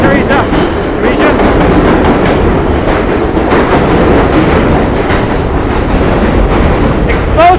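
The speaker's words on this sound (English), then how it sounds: "And a train's coming." A train crosses a loud bridge in New York City on a Brooklyn-to-Manhattan walk, a close, continuous roaring rumble with rhythmic clatter and a brief high squeal at the end.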